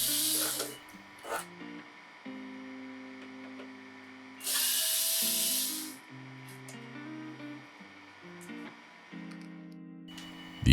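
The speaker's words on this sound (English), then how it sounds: "For removing the control board, start with removing the 2 screws holding it in at the top left and right corner." Power screwdriver backing screws out of a Samsung stove control board, giving a loud whirring burst near the middle, with shorter bursts early on and steady tonal hum throughout.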